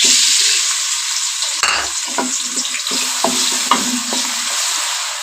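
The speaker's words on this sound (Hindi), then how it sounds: "हमारा घी अच्छी तरह गर्म हो चुका है। अब हम डालेंगे प्याज।" Onions frying in hot ghee for aloo mater sabzi, a loud steady close sizzle with stirring scrapes and knocks of a spoon against the pan.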